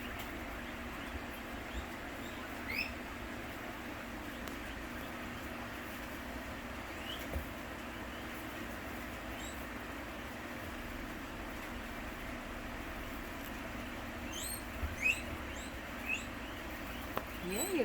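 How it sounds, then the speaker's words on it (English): A swamp cooler and fans run steadily indoors in a room housing a guinea pig and her newborn pups, a constant broadband whoosh filling the whole stretch with faint chirps and small squeaks on top. "The sound you hear in the background is swamp cooler and fans to keep it cool in here"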